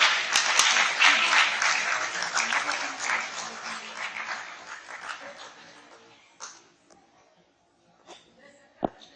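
A lecture hall audience at a Bhagavad Gita talk bursts into loud, dense applause that fades out over several seconds, leaving scattered claps and murmurs.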